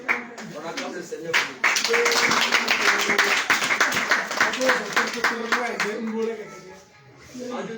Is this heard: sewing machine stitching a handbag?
no